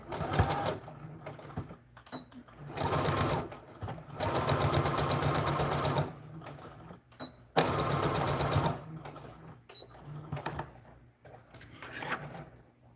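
A sewing machine runs in several bursts of steady mechanical stitching, starting and stopping with quieter pauses between, up close.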